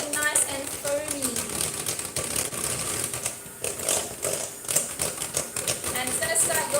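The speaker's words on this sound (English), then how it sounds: "we're going to continue whisking this until it starts getting nice and foamy" A whisk beats vegan batter with a pinch of bicarb soda in a bowl until foamy, a fast, steady metallic clatter that runs continuously and fairly close throughout.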